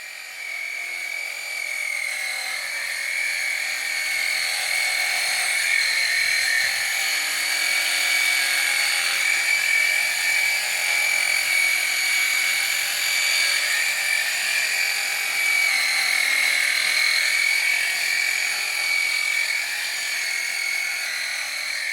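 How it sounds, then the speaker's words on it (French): Electric horse clippers hum steadily with a high buzzing whine, running continuously and close by with no pauses while clipping a horse. "Il faut penser à huiler sa tondeuse environ toutes les 15 minutes pendant la tonte."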